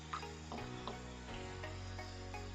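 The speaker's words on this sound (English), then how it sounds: "this is just sizzling its way through" Marinated mushrooms sizzle steadily in a hot frying pan with onions, a continuous close crackle with occasional scraping stirs against the pan.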